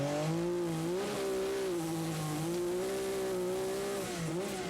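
Rothmans Porsche race car at the Spa hairpin, heard from an onboard camera: a loud, steady engine drone with wavering pitch as the car slides and spins, then picks up again, with no voices.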